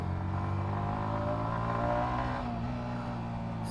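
A Yamaha XSR motorcycle carrying a pillion passenger holds a steady, moderately loud engine drone with a slight rise in pitch, heard from on the bike while riding.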